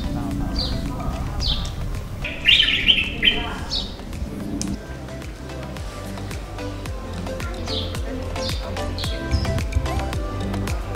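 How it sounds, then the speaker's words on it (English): Birds chirp and sing in Le Jardin Secret, a riad garden in the Marrakech medina, with scattered short tweets over a busy background of clopping hooves and street murmur. "Listen to these incredible birds."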